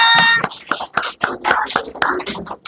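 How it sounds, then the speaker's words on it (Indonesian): A handful of people in a classroom give scattered, uneven claps for a student teacher group after a presentation. A brief voice opens the moment, then the sharp claps spread irregularly, fairly close and moderately loud. "Beri tepuk tangannya."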